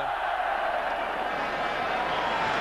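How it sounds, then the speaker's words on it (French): Montpellier home supporters applaud their team at a 1987-88 Division 1 football match against Marseille, a steady broad wash of clapping and crowd noise filling a stadium without letup. "tout le public de Montpellier qui applaudit son équipe"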